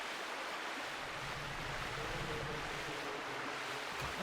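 Released water rushes steadily in the video game Zelda: Twilight Princess HD, a continuous, fairly quiet broadband wash with no pauses from start to finish.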